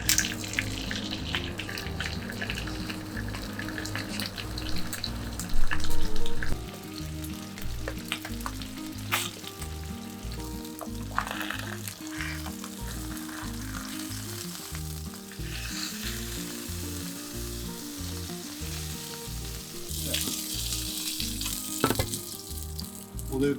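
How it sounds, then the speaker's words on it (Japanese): Fish pan-frying skin-side in a hot pan for a crisp poêlé, a steady close sizzle and crackle running throughout with occasional louder spits and light utensil or tap sounds, no talk. "魚入れていきます。"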